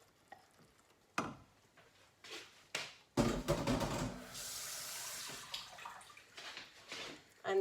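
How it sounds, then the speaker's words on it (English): A spoon works kidney beans into thick tomato sauce, with faint scattered wet clicks, then a louder stretch of sloppy stirring and squelching that tapers into softer scrapes. "you just mix the kidney beans into the tomato sauce like so"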